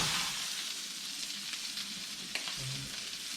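A freshly harvested Texas white-tailed deer roast browns in a hot pan, sizzling steadily and close up throughout, with a few brief spatters and a crackle near the end.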